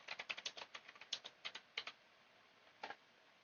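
Quick bursts of keystrokes on a computer keyboard, close and crisp, in a rapid cluster followed by a pause and a final pair of taps.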